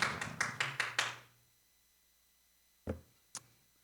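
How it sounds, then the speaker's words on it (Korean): A church congregation at Sunday worship gives a short burst of applause, about five quick claps fading out, followed after a pause by two isolated louder claps or taps, with no talking. "우리 박수로 한번 좀 격려 좀 해주지요."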